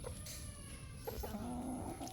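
A silkie hen suffering from a winter cold gives a few soft, low clucks, faint and close by, with no talking.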